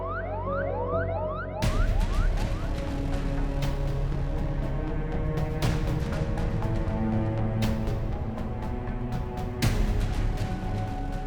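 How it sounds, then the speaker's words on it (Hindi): An ambulance siren wails in a continuous, loud, cycling tone as it arrives, running steadily throughout with no talk over it. "एम्बुलेंस आ गई है।"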